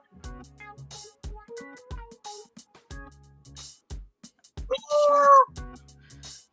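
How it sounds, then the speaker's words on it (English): A house cat meows several times in short, clear calls spaced through the scene, with one louder, drawn-out meow near the end, close by and in a quiet room. "There's my cat."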